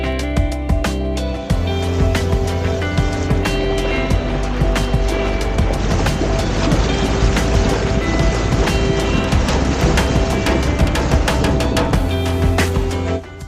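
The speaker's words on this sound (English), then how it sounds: "Sailing upwind, the wind was ideal and you could make good speed." A sailboat sails upwind across Santander bay in ideal wind, with constant rushing water and wind noise buffeting the microphone and sharp knocks and slaps from the hull and rigging throughout.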